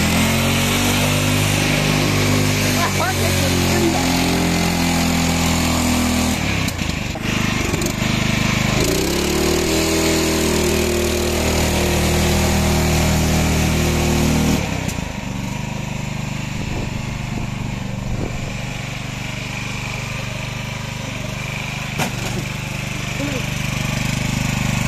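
A small-engine vehicle, its throttle cable pulled by hand, revs hard at full throttle, a loud and steady buzzing whine that rises and falls in pitch near the listener.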